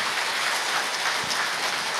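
Steady, dense clapping from a large audience, a continuous loud wash of hand claps with no breaks or talking throughout.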